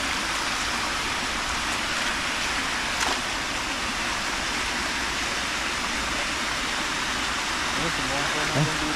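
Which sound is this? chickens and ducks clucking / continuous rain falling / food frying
continuous rain falling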